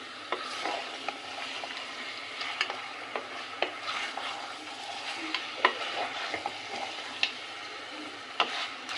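Chicken pieces being stirred and fried in oil over a high flame for a restaurant-style chicken fry, a steady low sizzle punctuated by regular sharp clicks of the utensil against the pan.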